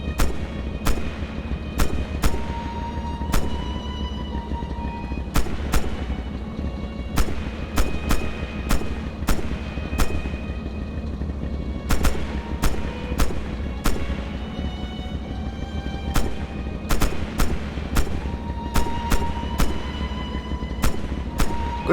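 Tank guns firing in the Red Orchestra 2 video game, a series of loud, sharp single blasts spaced a second or two apart, with some quick bursts, over a steady low engine rumble.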